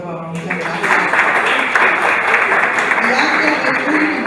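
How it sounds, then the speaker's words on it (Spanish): An audience at a talk on judicial language and access to justice applauds, sustained clapping that runs loud and even throughout, with a voice faintly present underneath. "Un aplauso, por favor."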